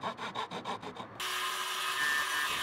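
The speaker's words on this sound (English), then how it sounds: "we need to cut a piece out of the box to allow the handle of the drill to pass through." A handsaw cuts a piece out of a wooden box for a DIY drill press head, with about seven rhythmic close strokes, then a loud, steady power-tool whine takes over.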